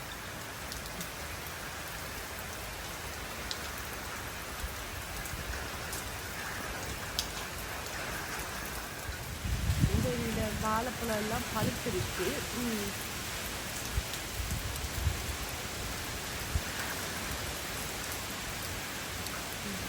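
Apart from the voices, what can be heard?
heavy daytime rain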